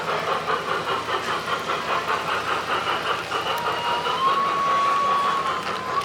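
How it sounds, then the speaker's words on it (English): An old train circling its route at EPCOT, a steady rumbling engine drone with a faint rhythmic clatter and a thin whine rising near the end, moderately distant, no voices. "This looks like a pretty old train making its rounds."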